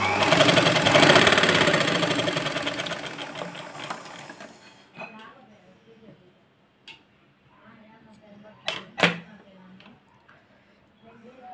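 A sewing machine stitches tucks on a simple old-style blouse, running in a loud, fast whir for a few seconds, then stopping, followed by quiet handling and a few sharp clicks.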